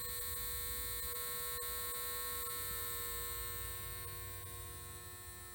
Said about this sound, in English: The satisfying sound of motor break-in.